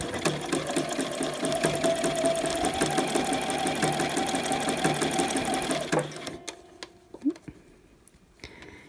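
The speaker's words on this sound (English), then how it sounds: "And you want to sew right up against, but not over, the piping part of the elastic." A sewing machine runs a 3-step zigzag stitch on piping elastic with a rapid, even mechanical rattle for about six seconds, then stops, leaving faint handling clicks.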